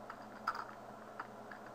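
A computer keyboard used while writing web code, with a few soft, scattered keystrokes, faint and close in a quiet room.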